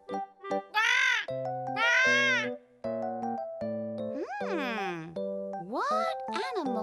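A parrot's calls in a children's animal-sound setting: a series of bright whistles, squawks and chirpy tones with rising sweeps, close and clear, broken by short pauses.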